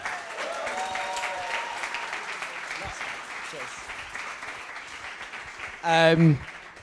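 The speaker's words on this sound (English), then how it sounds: "So round of applause to our final speaker, Bruno." Steady applause from a conference audience for a speaker fills the room, with faint voices beneath it and a brief louder sound near the end.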